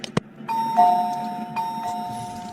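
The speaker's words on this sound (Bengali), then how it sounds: "এতবার কলিং বেল বাজাইয়ের দরজা খুলে না" A cartoon doorbell rings with a bright electronic ding-dong chime that repeats twice in quick succession, preceded by a couple of sharp knocks or clicks.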